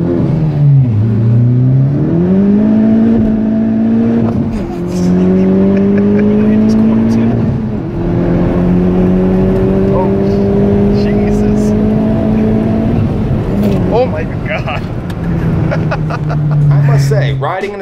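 Honda Civic Type R FK8 engine revving hard during a ride-along, loud sustained rising and falling engine drone through several gear pulls, with talk faintly mixed in.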